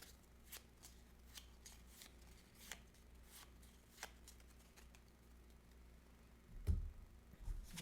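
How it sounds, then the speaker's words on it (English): Playing cards being shuffled in repeated quick riffles, soft and close, with a couple of louder thumps near the end as the deck is squared. "Just going to shuffle these up."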